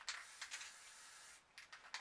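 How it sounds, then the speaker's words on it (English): A can of green spray paint hisses through a small stencil in several short, light bursts, with brief pauses between them; soft and close. "So just a light spray."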